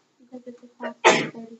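A loud, sharp sneeze bursts out in a geometry class right after a short stretch of speech, with talking resuming briefly afterward.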